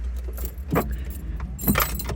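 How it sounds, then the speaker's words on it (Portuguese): A key turns in a Peugeot car's ignition with a loud jangle of the key bunch and metallic clicks, close by, over a low steady background hum. "E se eu girar aqui a chave"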